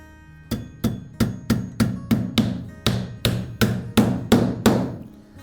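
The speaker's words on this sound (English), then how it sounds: "we're going to take our roofing nails, nail this" Roofing nails are hammered into a roof deck in a sharp, even series of about a dozen loud, close metallic blows, evenly spaced at roughly two strikes per second.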